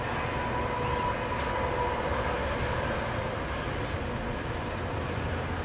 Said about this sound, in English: we're going to wait till this train quits honking its horn